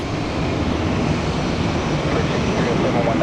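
A JetBlue jet airliner at Tampa International Airport gives a loud, continuous broadband engine roar that holds steady throughout, with no talk.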